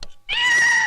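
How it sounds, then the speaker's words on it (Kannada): A single drawn-out cat meow, loud and close, follows a brief click and a short pause. "ನಿನಗೇನಾದ್ರು ಬೆಕ್ಕಿನ ಶಬ್ದ ಕೇಳಿಸ್ತಾ?"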